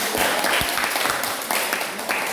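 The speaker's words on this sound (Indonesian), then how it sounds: "Oke, tepuk tangan untuk semua." Classroom applause from students after a teaching-practice presentation on springs and elasticity, a short burst of scattered clapping with some murmured voices underneath.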